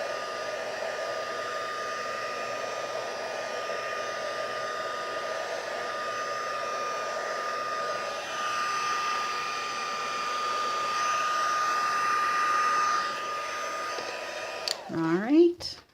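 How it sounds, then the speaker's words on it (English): Heat embossing tool blowing steadily on the back of a stamped Christmas quilt greeting card, a continuous airy whoosh that holds nearly unbroken for about fifteen seconds before cutting off with a brief clunk. "Now I'm just going to put some heat on the back side."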